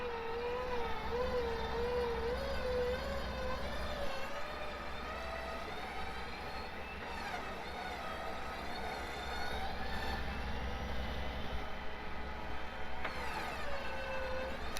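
A Jeep's engine strains steadily in reverse while pulling a stuck Suburban out with a winch, a loud continuous drone with a rising whine near the start, and no talk over it.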